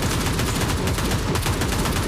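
Rapid automatic gunfire from the World War Heroes video game runs dense and nonstop, loud and close, for the whole couple of seconds with no voice over it.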